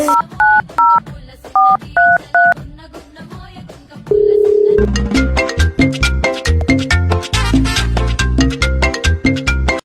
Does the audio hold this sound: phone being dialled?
yes